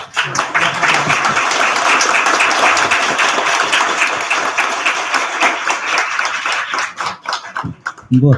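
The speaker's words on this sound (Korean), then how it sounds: "박수로 일어서 주시기 바랍니다." A congregation at a special church gathering claps loudly and steadily, the applause thinning into scattered individual claps with voices starting up near the end.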